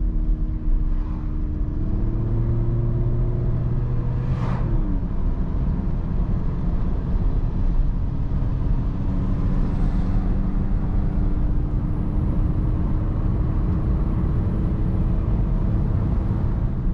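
A Volkswagen Golf 1.6 TDI with 115 horsepower and a DSG automatic gearbox climbs the Grossglockner mountain switchback road, its steady engine drone and road rumble constant throughout, with rising tones as it pulls, and no talking.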